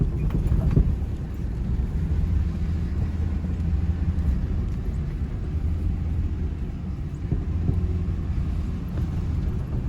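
Horses mill around a truck in a fenced field, their hooves making soft, irregular clip-clops over a constant low rumble of engine and wind buffeting.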